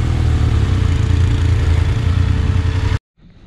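A motorcycle engine runs loud and steady while the bike is hauled out of deep sand on a Jalapão expedition trail, then cuts off abruptly near the end, leaving a faint low rumble.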